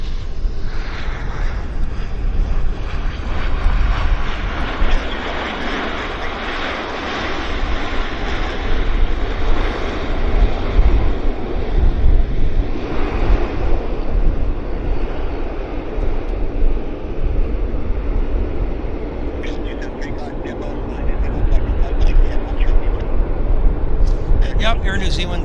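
An airliner departing Vancouver Airport bound for Zurich roars steadily for a sustained stretch, loud and broadband, the engine noise swelling and holding throughout with some distant rumble and talk underneath.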